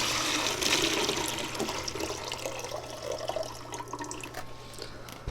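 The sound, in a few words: water being poured out of a box of boxwood cuttings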